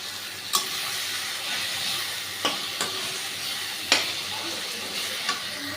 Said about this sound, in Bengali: মশলাটাকে ভালো করে কষে নিচ্ছি